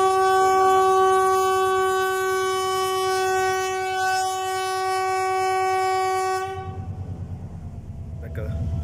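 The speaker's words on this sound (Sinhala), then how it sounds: "කෝච්චි එනවා" A train approaches with a long, loud, sustained horn blast, then the horn cuts off and the heavy rhythmic clatter of wagons rolling close by takes over.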